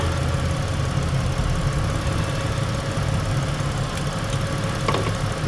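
Engine of a 2008 Lincoln MKX idling steadily after injector driver repair, an even low hum heard close, with a couple of faint clicks near the end.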